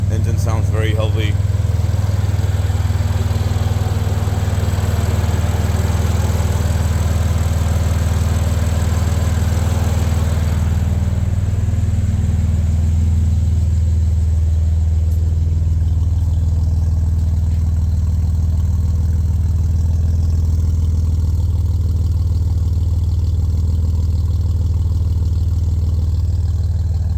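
A 2015 BMW M3 (F80) engine with full bolt-ons and a methanol induction kit idles steadily and fairly loud up close, a deep, even rumble that holds for the whole stretch.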